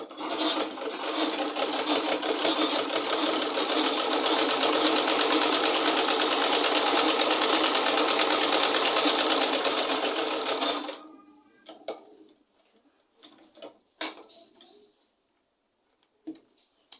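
A sewing machine stitches a pleated off-shoulder sleeve in one steady, loud, rapid run lasting about eleven seconds, then stops, leaving faint clicks and handling noises.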